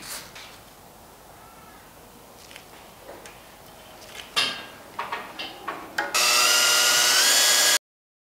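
Scattered clicks and handling noises, then a loud, steady high-pitched whine of a 6.25 mm drill boring into a BMW M52/M54 oil pump lock nut for about two seconds before cutting off abruptly.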